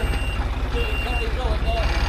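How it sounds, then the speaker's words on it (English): A dumper truck's reversing alarm sounds amid a loud, low engine rumble, with some voices or clatter faintly underneath. "a dumper truck in use and an old one."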